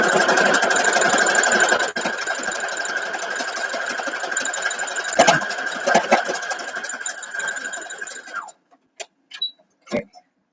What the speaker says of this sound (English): sewing it across